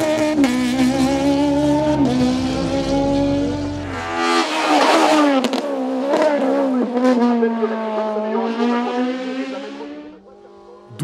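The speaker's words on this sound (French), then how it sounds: "c'est Sébastien Rochat qui s'y impose sur sa Peugeot 205 GTI" A Peugeot 205 GTI rally car races at a hillclimb in Marchampt, Beaujolais, its engine revving loud and close with rising and falling pitch through gear changes, the roar swelling as it passes.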